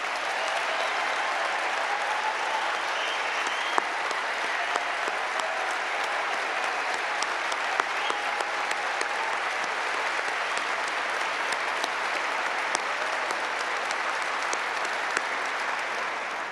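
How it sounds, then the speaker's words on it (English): An outdoor crowd at a lakeside climate event gives police and fire chiefs a long, warm round of applause, steady dense clapping with scattered sharper claps, sustained evenly throughout. "give them a big, warm round of applause"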